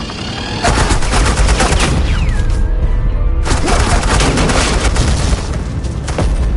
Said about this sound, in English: I said suppressing fire!